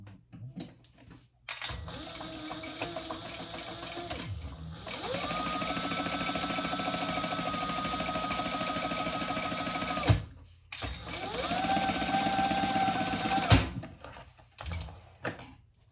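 Domestic sewing machine stitching the seam of a bowler bag's exterior and pocket lining, right sides together; long steady whirring runs of several seconds, broken by short pauses, loud and close with no talking.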